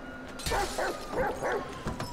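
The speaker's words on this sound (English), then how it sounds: "Yo, this dog doesn't wanna just chill out." A dog in GTA 5 barks and yips in a quick series of four or five short, close barks.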